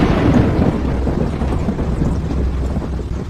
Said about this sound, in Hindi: तभी एक और बिजली कड़की।